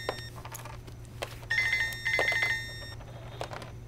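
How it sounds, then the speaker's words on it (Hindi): A telephone ringing in a movie scene, with a few bursts of electronic ringing over a steady low hum and faint room noise, moderately loud and somewhat distant. "किसका फोन है?"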